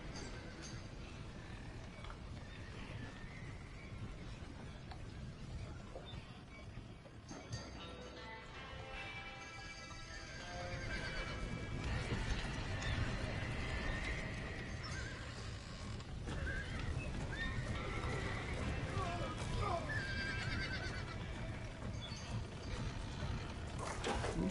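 Horses in the Red Dead Redemption video game, neighing and whinnying repeatedly with hooves clip-clopping, under a steady background din that swells partway through.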